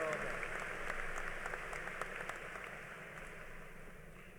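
Audience applause at a high school graduation ceremony, a broad crowd clapping that rings through a large hall and slowly fades, with scattered individual claps standing out.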